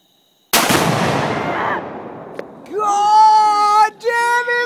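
A rifle shot sets off an exploding target outdoors for a loud, sharp boom that rolls off into a long fading rumble, followed by excited shouting voices.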